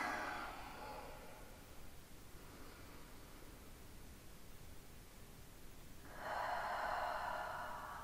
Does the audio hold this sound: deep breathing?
yes